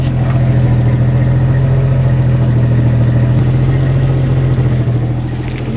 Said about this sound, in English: Here's a shot of the sound right now.